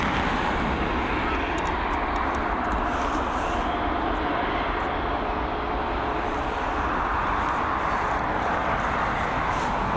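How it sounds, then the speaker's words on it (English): A Boeing 737 MAX airliner lands at Dublin Airport, its jet engines a steady broad roar heard from a distance for the full span, with no other sounds standing out. "There we go, that 737 MAX down safely."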